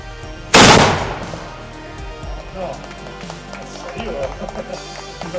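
A single loud, booming cannon blast rings out at an artillery demonstration, followed by scattered voices and shuffling crowd noise.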